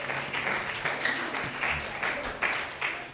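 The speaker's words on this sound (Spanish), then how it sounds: "Dale fuertes palmas al Señor, gloria a Dios." A church congregation applauds with steady, moderately loud rhythmic clapping that blends into a continuous wash of hand claps.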